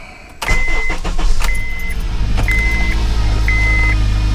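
Car engine cranking on the key after a click, the starter whirring in repeated pulses with a chiming warning tone beeping over it, close and loud, no talk.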